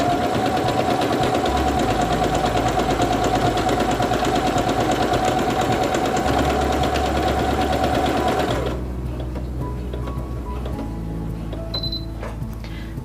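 A Singer Quantum Stylist 9960 sewing machine stitches out a sequence with a steady, fast mechanical whir and needle chatter, then stops, leaving quiet background with a few faint clicks.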